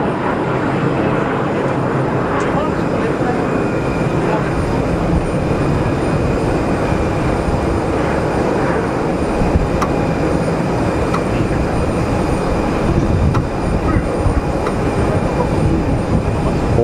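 KLM airliner at Geneva Airport, a steady loud jet engine roar sustained throughout without pause, with a faint occasional voice in the background.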